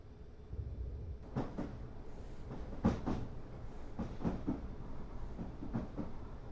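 Train in Train Simulator 2017 slowing on its approach into a station on the St Albans Abbey branch line, with a steady low rumble and several rhythmic clicks and clunks of wheels over rail joints.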